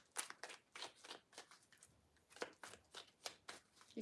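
Tarot cards shuffled by hand in a series of quick riffling bursts, close and crisp, with short pauses between shuffles and no talking.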